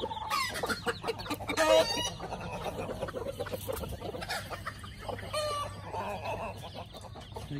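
Mother hen clucking near her chicks, repeated short clucks and cackles in irregular bursts, close and fairly loud, with other fowl calling and a rooster-like crow in the mix.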